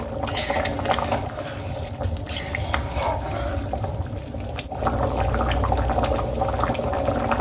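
Chickpea dal with potatoes bubbling steadily in a pot, a continuous low rolling boil with watery churning, fairly loud and uninterrupted throughout.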